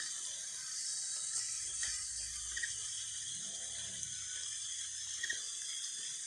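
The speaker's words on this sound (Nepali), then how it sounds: "एकदम पानी परिरहेको छ" Heavy rain falling during a motorbike taxi ride on a dangerous road, a steady, fairly quiet hiss that never lets up, with a few small clicks and rattles over it.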